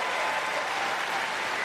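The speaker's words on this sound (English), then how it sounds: "Crowd rallying the #1 seed." Crowd applause at a women's wheelchair tennis match, a dense, even wash of clapping from a large audience without a break.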